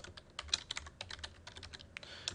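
Fast, light typing on a computer keyboard, a steady patter of soft close key clicks recorded quietly with no talking.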